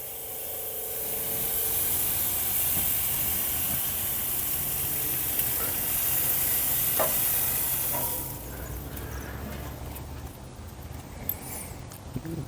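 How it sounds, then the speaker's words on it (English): Pork tenderloin sizzles faintly on a Monument Grills Mesa M400MF grill, a soft, steady hiss with light scraping that quiets partway through. "Oh, I hear a sizzle."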